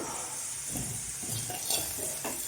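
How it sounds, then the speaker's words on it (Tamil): Vermicelli (semiya) roasting in a pan gives a steady, soft sizzle, with a few light stirring scrapes spaced through it, close up and with no talking. "இப்போ சேமியா ஓரளவு நல்லா வதப்படட்டும்"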